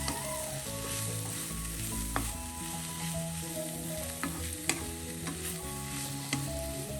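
Drumstick leaves and green gram fry in a pan while being stirred, producing a soft, steady sizzle with occasional sharp utensil taps beneath background music.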